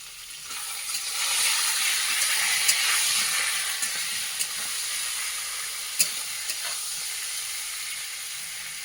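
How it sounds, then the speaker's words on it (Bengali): Eggplant frying in a pan in a village kitchen, a steady close sizzle and hiss running throughout with occasional soft clicks and stirring taps, no voices. "আমি বেগুনটা আগে সুন্দর করে ভেজে নিচ্ছি"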